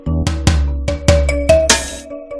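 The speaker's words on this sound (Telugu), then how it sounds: "ఫోన్ చేస్తుంటే ఫోన్ ఎత్తటం లేదు" A phone ringtone plays a repeating run of bright tones in a regular rhythm, loud and close, with a noisy burst near the end and no voices.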